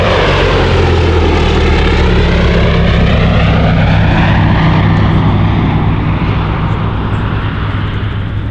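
Gloster Gladiator biplane flying at an air show, its loud propeller engine droning steadily and close throughout, with a sweeping pitch shift as it passes overhead.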